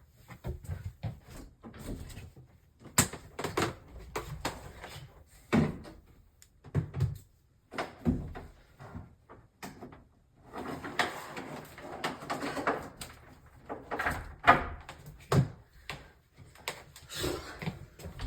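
Unevenly hung closet doors being moved, giving irregular bumps, sliding scrapes and knocks close by, separated by quiet gaps.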